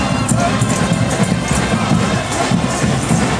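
A large outdoor crowd at the Cape Town Minstrel Carnival roars and cheers in a loud, dense, continuous din with a heavy low rumble, likely mixed with applause and festive noise.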